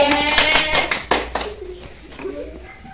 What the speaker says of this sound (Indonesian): Beri tepuk tangan kepada Kasih